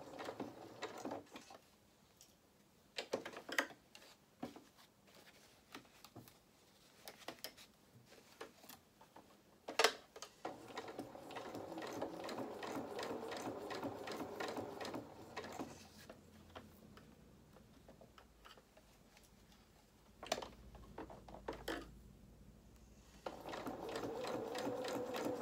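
A sewing machine stitches a sailor dress bodice in bursts of rapid mechanical whirring and ticking, separated by short pauses and sharp clicks, close and fairly quiet.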